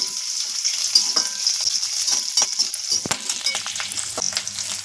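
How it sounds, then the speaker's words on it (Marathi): Potato and green chillies sizzle and fry in oil in a pan, a steady crackling hiss with occasional stirring scrapes, close and without talk. "याच्यामध्येच बटाटा टाकते. थोडं तेलामध्ये परतून घ्यायचं."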